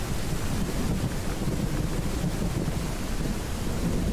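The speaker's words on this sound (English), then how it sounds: "Let me know if the storm's too loud." A thunderstorm over a lake, heard as a steady, dense roar of wind and rain that holds loud and unbroken from start to finish, with no distinct thunder crack standing out.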